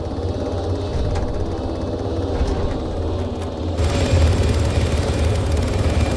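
Steady, loud helicopter rotor and engine roar from the ArmA 3 video game, continuous throughout and growing slightly heavier and fuller partway through.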